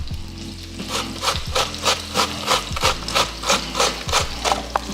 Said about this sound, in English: when I shred my potatoes